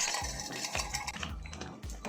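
Roasted cashews and raisins are poured into a pot of rice payasam, with a spoon clinking and scraping against the metal vessel in quick, uneven knocks, close and fairly quiet.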